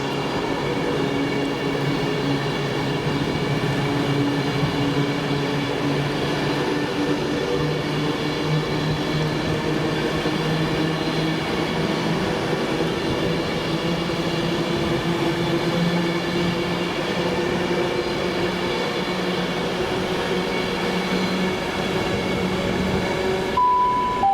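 A North Wales line train with four coaches rumbles steadily along the rails for a long stretch, a constant droning hum from inside the carriage with no talk.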